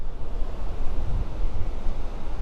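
A waterfall near a hydro power area roars as a dense, steady rush of falling water, loud and close, with wind buffeting the microphone and no voices.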